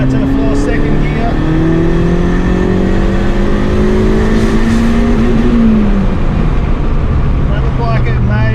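A turbocharged Honda D16 car accelerates flat out in second gear, its loud, steady engine note rising in pitch as the revs climb before dropping off near the end, with wind and road roar filling in underneath.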